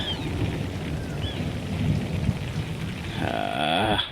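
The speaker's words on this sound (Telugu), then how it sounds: "వర్షం పడుతుంది ఫోన్ మీద అందుకే బ్లర్ వస్తుంది" Rain pattering steadily close by on a phone with a low rumble, ending in a brief whistling, chirpy sound near the end; no voices.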